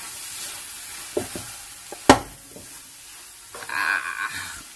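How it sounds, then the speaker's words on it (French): Cassava sticks and vegetables are stirred in a pan over a soft sizzle, with a few scraping clatters of the utensil against the pan and a sharp knock near the middle. "Alors, allez, je remue."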